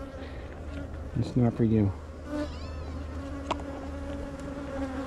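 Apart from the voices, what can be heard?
honey bees buzzing around a hive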